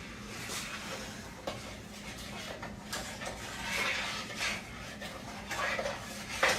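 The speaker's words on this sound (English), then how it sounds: "we're going to slowly add this to our sugar mixture, sugar and butter mixture. Stir that up good" A spoon stirs a sugar and butter mixture in a pot as milk is added for homemade banana pudding custard, giving soft, continuous scraping and swishing with faint clinks.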